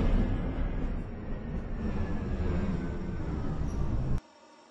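An automated airport people-mover train on the Westwood Airport Transit line gives off a loud, steady rumble and rolling hum close by. The sound cuts off sharply near the end and leaves quiet station ambience.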